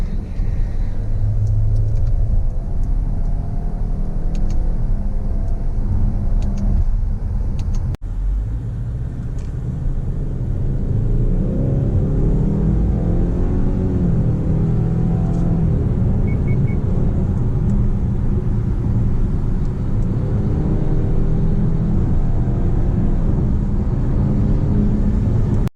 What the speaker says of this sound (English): just so we can get a little bit of an acceleration to see how the turbo 4-cylinder performs